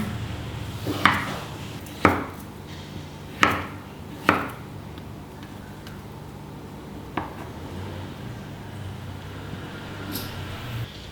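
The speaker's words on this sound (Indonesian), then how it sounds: "Ada 2 buah kentang yang sudah kita rebus, kita potong-potong." Boiled potatoes are chopped into pieces on a board, with about five sharp, distinct knife strikes in the first half and one softer tap later, heard close up over a low background hum.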